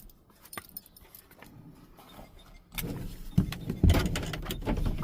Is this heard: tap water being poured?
no